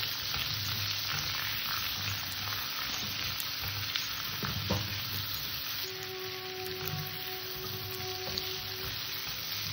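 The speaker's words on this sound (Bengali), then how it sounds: "তরকারিটাকে ভালো করে কষবো।" Curry of kohlrabi, potato and puti fish sizzles in a pan as it is sautéed, a steady close frying crackle with occasional stirring scrapes and no talking.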